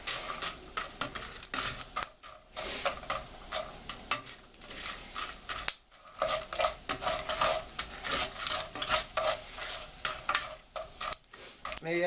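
Pasta and rice stirred and fried together in a pan for a chicken macaroni soup, a steady sizzle with repeated scraping and stirring strokes, close and continuous with brief pauses.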